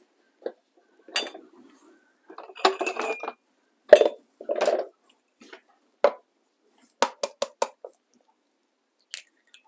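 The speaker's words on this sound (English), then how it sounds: "Okay, grab a cup that we can crack the egg into." An egg cracked into a cup while making piroshki: a handful of sharp, close taps and light clinks scattered with pauses, plus soft shuffling in between.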